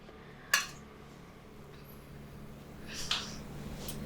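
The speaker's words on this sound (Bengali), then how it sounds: "এই যে এইভাবে ছুরির সাহায্যে আমি কেটে নিলাম।" A knife cuts semolina and potato dough into small pieces, giving two sharp, quiet taps on the surface about two and a half seconds apart, with a soft hush between them.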